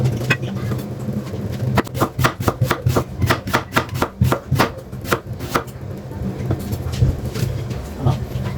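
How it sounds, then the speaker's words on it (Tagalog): Knife slicing food on a cutting board in a home kitchen, a rapid run of crisp, evenly spaced chops followed by a few slower cuts. Close and loud, with no talking. "Tapos i-slice na natin yan."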